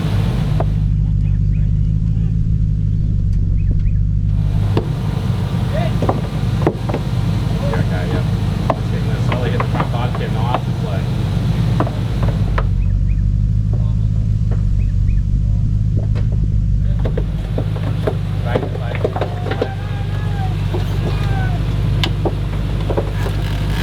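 A Nissan Y62 four-wheel drive grinds along a rough off-road track, its engine rumbling steadily and loudly throughout with bumps and rattles.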